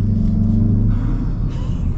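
A 2024 Mazda 3 turbo engine hums with a steady, loud low rumble from close by, holding an even drone for two seconds with a slight dip near the end and no voices.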